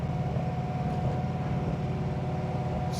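A 1970 Dodge Challenger convertible with a Ray Barton Hemi and manual valve body drives along, its engine a steady, loud, rumbling drone with no change in pitch.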